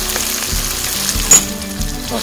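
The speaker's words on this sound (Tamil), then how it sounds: "நல்லா வதக்கிறேன்." Biryani masala, curry masala powder and salt sizzle and fry in a pan, with steady crackling and occasional stirring scrapes close up.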